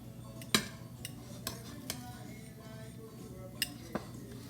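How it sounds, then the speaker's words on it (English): A utensil stirs ingredients in a bowl with a little salt, giving soft scraping and a few sharp clinks against the bowl at irregular moments, close by and fairly quiet. "I'm going to mix this up."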